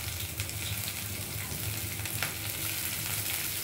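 Whole garam masala, a bay leaf and chopped green chili sizzle in hot ghee for a nine-ingredient pulao, a steady, dense crackling fry with faint stirring that continues without pause.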